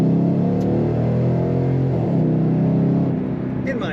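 A 2014 Ford Mustang GT coupe engine revs with a deep, rising growl, loud and close, the pitch climbing as it accelerates and then easing off.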